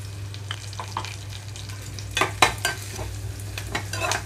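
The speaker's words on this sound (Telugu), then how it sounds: "ఉల్లిపాయలు మరీ వేగ అవసరం లేదు, ఒక 30 సెకండ్స్ పాటు ఇలా వేయించుకుంటే సరిపోతుంది" Chopped onions frying in hot oil for a tempering, with a steady sizzle under scattered scraping stirs and a few louder clinks of a utensil against the pan, no voices.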